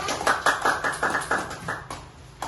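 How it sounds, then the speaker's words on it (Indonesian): Schoolchildren in a classroom clap their hands in a patterned rhythm, about ten distinct, fairly quiet claps spaced evenly, with a final lone clap after a short gap. "Kita tepuk tangan dulu biar teman-teman."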